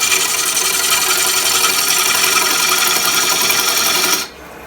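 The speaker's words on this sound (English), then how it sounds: "While hollowing a bowl, I always use two types of cuts." A lathe gouge hollows a wild, diseased chokecherry wood bowl, giving a loud continuous scraping, rasping cut with a steady whir for about four seconds, then stopping abruptly.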